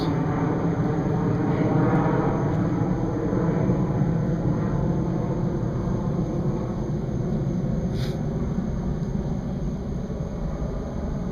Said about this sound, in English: It's an airplane. Anyway, let's let it pass.